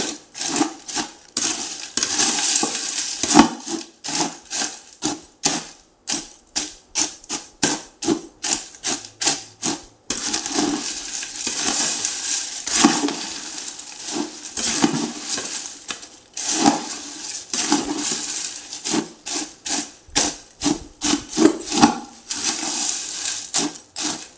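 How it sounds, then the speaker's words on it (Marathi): Ingredients being mixed and crushed by hand in a bowl for a sweet, heard as close, rhythmic rubbing and grinding strokes in repeated bursts with short pauses between. "जेव्हा आपण हे मिक्स करतो चुरतो तेव्हा बाहेर कुठेही उडत नाही किंवा सांडत नाही"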